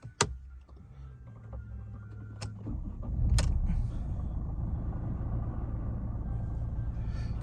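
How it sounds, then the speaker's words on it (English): A 2014 Mercedes E220 CDI estate with high mileage starts up: sharp clicks, then the starter catches and the diesel settles into a steady, close idle rumble. "Let's just start the car up for you."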